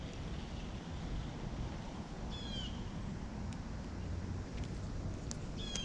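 Wind blows steadily outdoors during fishing, a constant broad rushing noise with low buffeting on the microphone and a few faint chirps in the distance.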